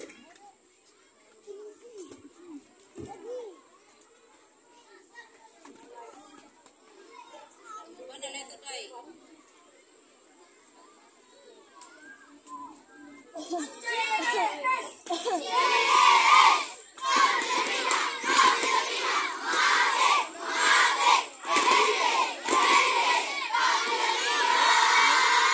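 Elementary school children at a night scout gathering shout their group yell together. Scattered voices and chatter are followed by a loud, sustained burst of massed shouting and cheering that runs to the end.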